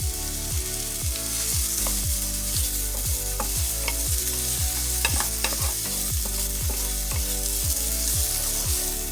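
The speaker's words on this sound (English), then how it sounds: "I'm going to go ahead and add the onion and also my garlic, and we're going to saute that for 1 to 2 minutes." Chopped onion and garlic sauté in a hot pan, a steady loud sizzle broken by rhythmic scraping strokes of a spoon stirring close by, with no talking.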